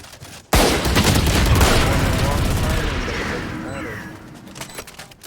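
Valorant gunfire erupts in a sudden loud burst of rapid shots that blends into a sustained roar. It fades over several seconds, with a caster's excited commentary running over it.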